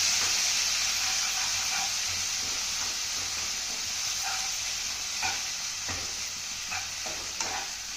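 Kolhapuri sukka mutton masala sautéing in a pan, with a loud, steady hissing sizzle and occasional scrapes from stirring, heard alone.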